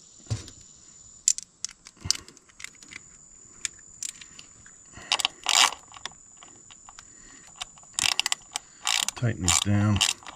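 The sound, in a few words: ratchet tightening bolts on Toyota Century V12 engine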